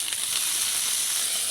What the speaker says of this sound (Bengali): আমি একটু ভেজে দিচ্ছি, আবার তুলে নিচ্ছি।